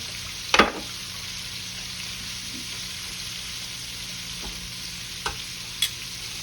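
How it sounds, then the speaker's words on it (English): Chicken feet frying in hot oil in a pan, giving a steady close sizzle with a few brief scrapes and knocks as they are stirred around so they do not stick together. "Just kind of stir them around here so they don't stick together."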